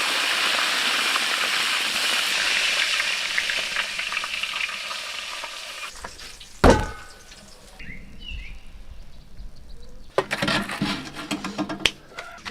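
A huge whole goose of about eight jin pan-fries in a large iron wok, first as a strong, dense sizzle. A metallic clank follows as the bird is turned, then quieter frying with scattered clatter.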